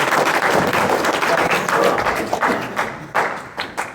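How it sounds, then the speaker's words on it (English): A classroom audience breaks into close, loud applause that thins out into scattered individual claps and thumps toward the end. "Round of applause."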